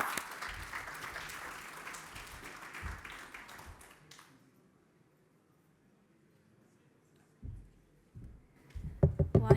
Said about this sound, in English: So round of applause, please, for Megan.